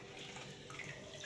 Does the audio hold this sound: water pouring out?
yes